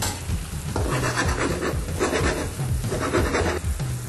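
Cream and fish or chicken broth stewing with softened onion in a pan, a steady close sizzle and bubbling hiss with faint stirring scrapes, continuous throughout.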